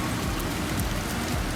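Heavy rain pouring down in Mumbai, a dense, continuous roaring hiss that holds steady and loud throughout the short stretch, with no voices.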